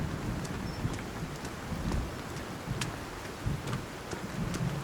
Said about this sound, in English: Man, is it gonna stop raining?